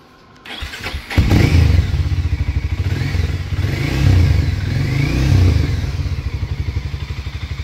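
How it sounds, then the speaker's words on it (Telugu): A 2025 Harley-Davidson X440 single-cylinder motorcycle cranks and fires up after a click, then settles into a loud, close, thumping idle with a couple of swelling blips of throttle. "ఒకసారి ఇంజన్ కూడా స్టార్ట్ చేస్తాను"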